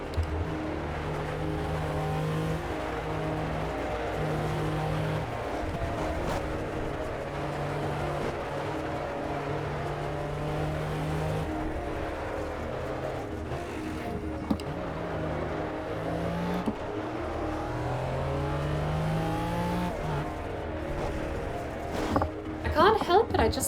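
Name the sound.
race car engine in a racing video game hotlap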